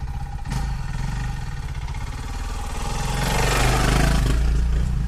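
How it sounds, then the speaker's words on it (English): A dirt bike engine buzzes close by on an off-road trail, its revving note rising and growing louder as it approaches and passes. "That's an all-out dirt bike."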